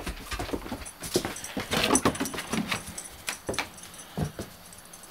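Several puppies whimper and whine in short, uneven bursts close by in a chilly farmyard on a morning, mixed with panting, light jangling and scuffling movement, with no talking.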